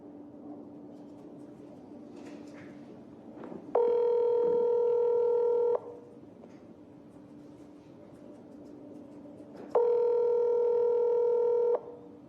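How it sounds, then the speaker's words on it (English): Outgoing telephone call with two long ringback tones separated by a pause, clear and steady over a faint background hum, no talking. "So here goes the phone call."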